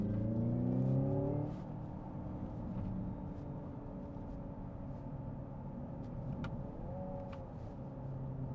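Hyundai Ioniq 5 N electric car accelerating with simulated gear shifts: a loud synthetic engine tone climbs in stepped harmonics, drops sharply after about a second and a half, then drones on steadily with another small shift near the end.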